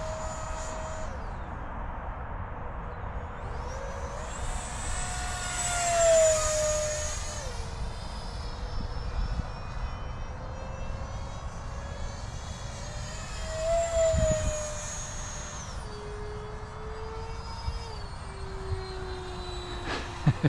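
An E-flite Viper 64mm electric ducted fan RC jet whines overhead, swelling loud twice as it passes with shifting pitch, then fading back to a steady distant hum. No voices.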